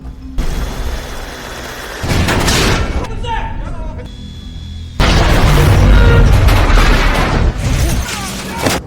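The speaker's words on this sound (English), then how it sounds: "The U.S. Navy fleet is overwhelmed by relentless explosions and gunfire." Heavy booms and crackling bursts of gunfire from the film Pearl Harbor's attack on the U.S. Navy fleet rumble loudly and continuously, with a brief quieter stretch before the barrage surges back even harder.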